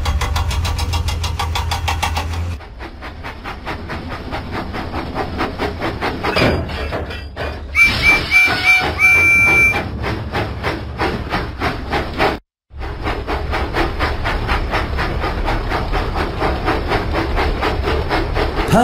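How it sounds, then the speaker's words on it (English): A steam engine in a Thomas and Friends kids' video game puffs out of the docks with steady, rhythmic chuffs. Brief chimes and a short dropout interrupt the game sound before it continues. "Percy pumped his pistons and puffed out of the docks."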